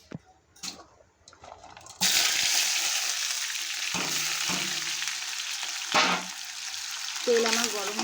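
Chopped onions and green chillies drop into hot oil for egg chowmein, bursting into a loud, steady sizzle after a few quiet clinks, with occasional stirring scrapes over the continuous frying.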